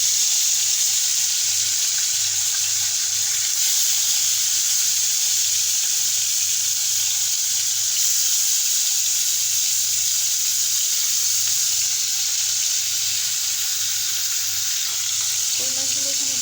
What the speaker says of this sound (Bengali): কই মাছগুলো এখানে ভাজা হোক